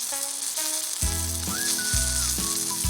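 Cod fillets, just flipped, sizzle steadily on a Blackstone flat-top griddle, a constant close frying hiss running the whole time alongside some tonal background sounds, with no talking.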